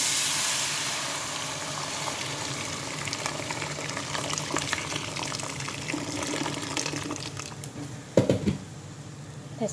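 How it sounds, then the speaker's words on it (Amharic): Water is poured into a cooking pot of chicken stew with spices, black pepper and onion, a soft continuous splashing and patter that ends in a few louder clunks, with no talking. "አሁን ውሃ ጨምራለሁ።"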